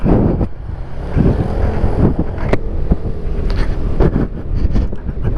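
Honda Beat scooter ridden on a morning trip toward Lembang, its engine a steady low drone mixed with strong wind rush across the microphone, continuous and close throughout.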